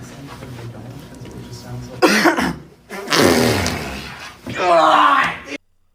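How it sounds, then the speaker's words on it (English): A couple of loud, harsh coughs burst out close by, separated by short pauses, with quieter background sound before them. "Do you think if I like tried to cover it up with a cough, they wouldn't hear it?"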